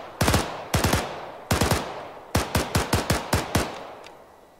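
An FG rifle fires in Arma 3 with the IFA3 mod: about a dozen sharp, loud shots, first in short pairs and a triple, then a quicker run of single shots, each with a brief echoing tail.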